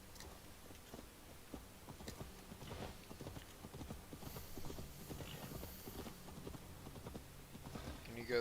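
Horse hooves clip-clop steadily at a quick gallop in Assassin's Creed Valhalla, a rhythmic run of light, fairly quiet thuds continuing throughout.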